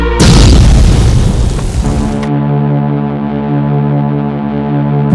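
A meteorite impact explosion opens with a heavy, loud boom that gives way to a long, deep droning rumble, steady and low for several seconds with no voices.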